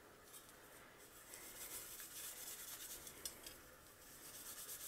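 A metal bristle brush scrubs Dawn dish soap across makeup palettes, giving a steady close scratchy rasping that continues alone through the whole stretch, with a few sharper scrapes.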